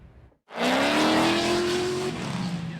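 A race car at the Hyperfest motorsports festival bursts in after a short pause, its engine screaming loud and close with a rising pitch, then settling into a rougher roar.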